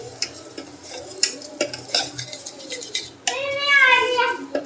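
Sugar being stirred into a homemade desi ghee sweet mixture in a pan, with scraping and clinking strokes near and steady, and a voice chattering briefly toward the end.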